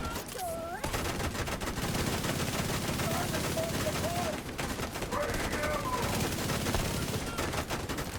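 An enemy's gunfire in a video game keeps up steady rapid bursts and dense volleys throughout, loud and continuous, with game voices and effects mixed in.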